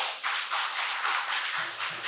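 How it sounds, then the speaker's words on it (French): Applause from an audience at a community celebration ceremony in Kouandé, Benin, a steady broadband crowd clapping that runs for the full two seconds, with a brief voice-like tone near the end. "l'honorable Gounou Salifou Abdoulaye, que je vous demande d'applaudir."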